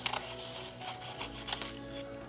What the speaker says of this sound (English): I'm going to fussy cut this one.